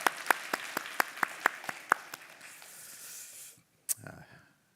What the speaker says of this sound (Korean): 감사의 박수 한번 이렇게 우리가 전사님 응원하는 마음으로 올려드립니다